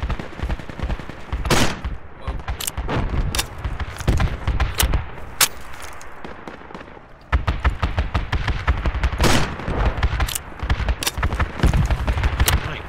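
Weapons fire in Project Reality, with repeated sharp bangs and rapid bursts crackling close by in irregular clusters, and no talking.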